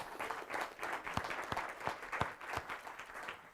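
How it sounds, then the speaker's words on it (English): An audience at a sponsor luncheon presentation claps for the speakers, a brief, moderately loud round of applause with dense overlapping claps. "Maybe a big round of applause would be appropriate for everybody."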